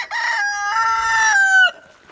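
A rooster crows loudly in one long, wavering call, close by, with a brief cluck at the end.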